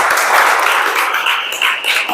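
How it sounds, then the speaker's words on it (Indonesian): A classroom of Islamic religious education students for grade eight applauds together, a dense, steady wash of many hands clapping close by that fills the moment without talk. "tepuk tangan, luar biasa"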